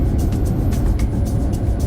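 Ford Ranger T6 pickup with a six-speed gearbox driving on the road, a steady low engine and road rumble heard from inside the cabin, continuous and fairly loud with no talk.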